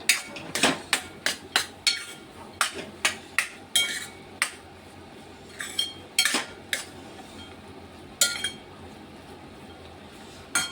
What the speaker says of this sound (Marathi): दूध टाकल्यानंतर हलवून घ्यायचं आहे रवा